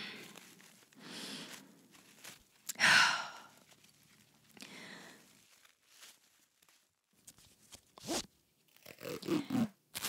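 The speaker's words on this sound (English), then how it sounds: "Just gotta get this tape around your body." Adhesive tape being pulled and wrapped around a person's body and feet: intermittent stretchy tearing and crinkling bursts, fairly close, with soft breaths and rustles between pulls and no talking.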